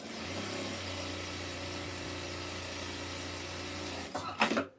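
A sewing machine stitching pale blue English eyelet fabric runs in a steady, even whir with a low hum for about four seconds, then stops, followed by brief handling rustles close by.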